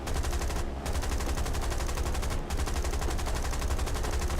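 Rapid, sustained machine-gun fire from a Churchill Mk I tank in War Thunder, a dense continuous stream of shots with two brief pauses, loud and close.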